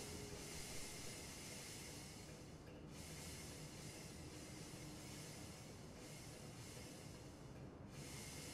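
A Class 456 electric train on the South London network in Train Simulator 2015, rolling along with a steady dense rumble and hiss of wheels on track, unbroken and fairly loud throughout.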